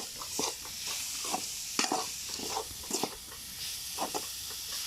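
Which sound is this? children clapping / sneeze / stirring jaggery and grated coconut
stirring jaggery and grated coconut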